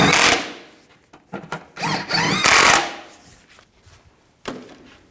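A power drill or driver on a 2002-06 Chevy Avalanche, snugging down bolts while an impact sensor is replaced: a few short, loud whirring bursts with scraping in between, fading to quiet.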